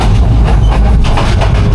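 A meter gauge passenger train runs fast on a rough, jolting line between Chittagong and Sylhet, giving a loud, steady roar of wheels on rails with rhythmic clattering and deep rumble throughout, heard from onboard.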